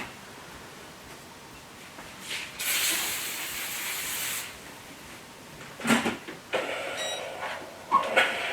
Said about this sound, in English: I'm using steam.